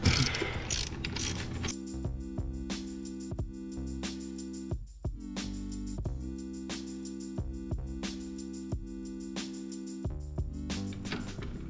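A socket ratchet loosens a 13mm bolt on a motorcycle rearset, giving a run of sharp, close clicking strokes in quick bursts with short pauses between them.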